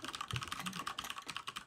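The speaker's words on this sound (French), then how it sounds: "Là, le clavier, on va l'entendre." Fast, even keystrokes on a mechanical computer keyboard come as a rapid clicking patter, close but quiet, with no talk.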